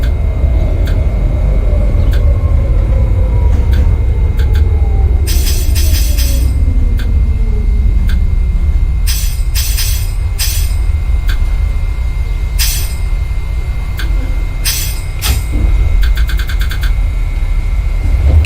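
Loud rumble of a simulated New York City R68A Q subway train in motion in a video game, a falling whine as it slows, with clattering bursts of wheels over track joints.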